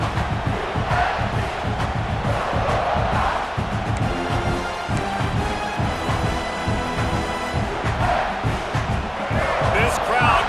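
A dense stadium crowd roars and chants steadily in the College Football 26 video game, loud and continuous throughout, with commentary voices over the top.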